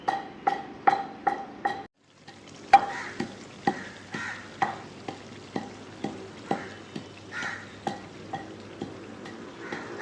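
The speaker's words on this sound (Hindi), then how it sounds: "तवे की आवाज़ ही बड़ी अच्छी लगी।" Cumin frying on a hot tawa griddle, with a steady hiss broken by regular clacks of a utensil stirring against the metal, fairly close, no talking.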